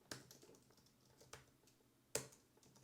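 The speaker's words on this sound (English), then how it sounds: "my typing's terrible" Typing on a computer keyboard, a few sparse, uneven key taps with one sharper clack, close and quiet against a faint room background.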